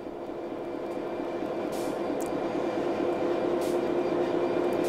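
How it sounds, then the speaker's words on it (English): Train in Train Sim World 3 pulling away under throttle, a steady, continuous rolling rumble with a faint mechanical whine that holds evenly throughout, with no talking. "Apply some throttle to get the train moving."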